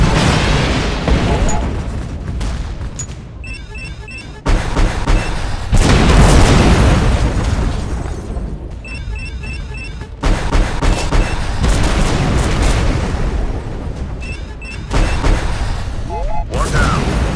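SAM missile explosions in the video game Shadow Strike, heard as repeated heavy booms and blasts over a constant roar of gunfire and engine noise, with beeping warning tones in between.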